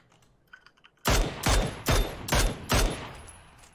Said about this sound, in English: I shot someone really far.